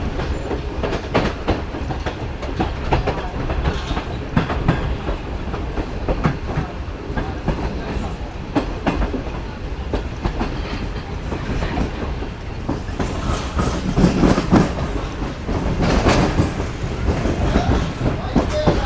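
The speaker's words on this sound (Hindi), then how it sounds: "आगे से ट्रेन फिर दोबारा मेन लाइन की तरफ बढ़ रही है" Shalimar Express train rolling off a loop line back toward the main line, a steady clattering rumble of coaches with intermittent wheel clicks over track joints and points, heard from on board with some talking.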